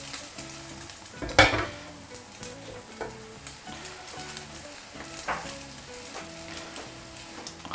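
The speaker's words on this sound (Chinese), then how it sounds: "直接下入我们这个西葫芦，开中小火。" Sliced zucchini fries in a pan over medium-low heat, with a steady soft sizzle, a sharp spray burst early on, and light scraping stirs throughout.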